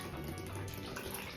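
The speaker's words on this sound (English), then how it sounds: "Then I add the coconut water, and I'm using the Goya water, coconut water with pulp." Goya coconut water with pulp pours steadily into a blender for a banana blueberry smoothie, a continuous liquid splash at moderate level, close by and without talk.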